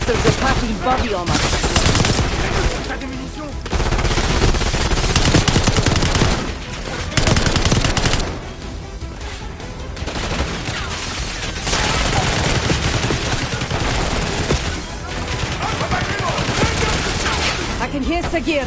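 Sustained gunfire from the video game Black Ops: bursts of machine-gun fire and heavy volleys, loud and dense for most of the stretch, with brief lulls and voices talking through the shooting.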